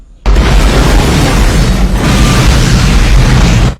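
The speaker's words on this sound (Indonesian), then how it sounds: "kapal Arctic Warrior meledak dan Santos tewas di ruang mesin" A ship explosion in its engine room: a sudden, very loud blast bursts in after a brief quiet, followed by a sustained roaring rumble that fills the rest of the clip.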